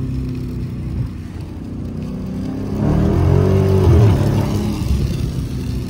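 A wrecked SRT 392 revs hard in second gear on a cold late night, its engine roar swelling loud and close about halfway through with a rising pitch, then holding steady, with no voices.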